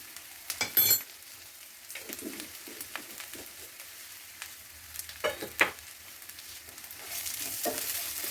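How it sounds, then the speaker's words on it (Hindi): Freshly grated coconut fries gently in a pan for a Rajasthani besan gatta curry, a faint steady sizzle with a few soft stirring scrapes and taps near the start and middle, rising to a louder hiss at the end. "हल्का सा इसको फ्राई कर लेते हैं।"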